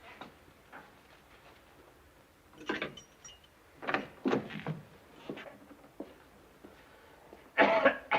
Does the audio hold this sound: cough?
yes